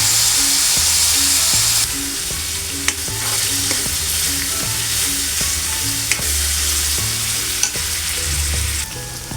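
Onion pieces frying in oil for a drumstick and tomato curry, a loud, steady sizzle with occasional light stirring taps and a faint musical tone underneath.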